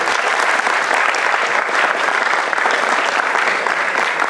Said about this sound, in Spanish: Pero eso merece un aplauso.